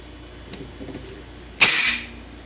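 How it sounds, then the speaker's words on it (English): The bolt release on a Russian VEPR 12 shotgun is pressed, and the bolt slams forward with one sharp, loud metallic clack at close range after a faint small click. "Even when you remove the mag, it stays open and does have that bolt release."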